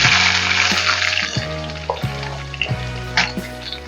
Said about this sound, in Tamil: இப்போ நம்ம பூண்டு போட்டுக்கலாம்.